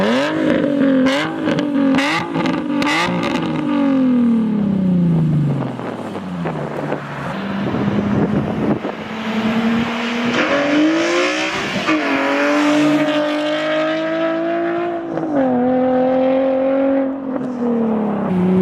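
A Nissan 350Z Nismo fitted with a Tomei exhaust revs loudly from outside the car, with repeated rising and falling engine sweeps, a sustained high-rpm hold and blips, close and dominant with some wind noise.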